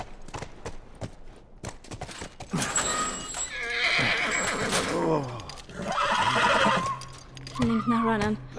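A horse whinnies loudly several times in The Last of Us Remastered, its calls rising and falling, with hoofbeats and game sounds in the background.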